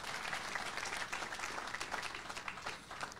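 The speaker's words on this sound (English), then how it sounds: "Go ahead and clap" A crowd at a political campaign speech claps steadily in a thick, continuous wash of applause that stays loud for the whole short stretch.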